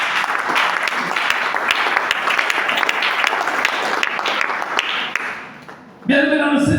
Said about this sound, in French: Acclamons très fort, Seigneur.